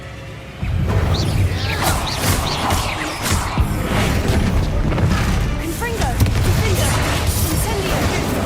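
Booming magical blasts and crashing impacts from the Bombarda explosion spell in the video game Hogwarts Legacy, repeated in a dense, loud, continuous run of bursts and whooshes.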